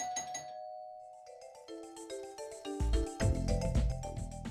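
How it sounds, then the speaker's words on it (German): Doorbell chime in the video game The Silver Case, a clear ringing ding-dong tone that gives way to louder game music swelling in underneath, with no voices. "Wer klingelt da?"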